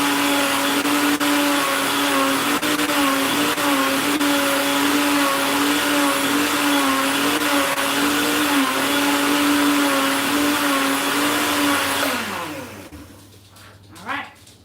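A kitchen blender runs steadily blending almonds and water for homemade almond milk, a loud continuous motor whine with a steady pitch for about twelve seconds before it winds down and stops, followed by a brief faint knock.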